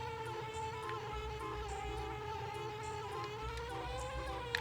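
Buzzing bee from the Banjo-Kazooie video game, a steady droning insect hum with a fluttering tone running continuously and fairly loud over the game's background music, with no talking.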